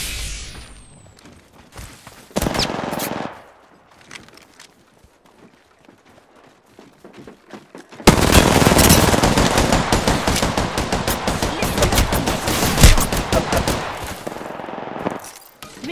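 Rapid automatic gunfire in the Apex Legends video game, a short burst early on, then a long dense stretch of loud, continuous firing with overlapping shots dominating the second half.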